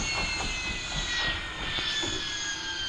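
Steady whine and drone of a stolen helicopter flying in a video game, loud and continuous with a sustained high tone above rumbling engine noise.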